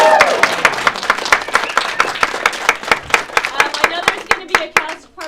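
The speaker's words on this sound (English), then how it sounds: "let's give them another huge round of applause" An audience applauding second grade performers at a school event, dense close clapping from many hands that swells and then thins into scattered claps, with a few voices mixed in.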